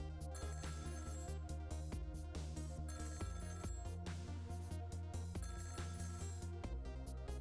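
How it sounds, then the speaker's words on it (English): A telephone rings repeatedly in the video game Ghost Trick, its steady electronic bell tones pulsing over game music for several seconds, with no talking. "About 2 hours before dawn, the phone rang."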